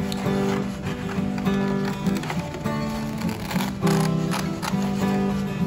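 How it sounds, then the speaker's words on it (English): Scissors snip through paper, cutting out the shape of a hand around each finger, a steady run of close crisp cuts with faint background noise. "I have to make sure that I'm careful with my scissors and I cut around each of my fingers"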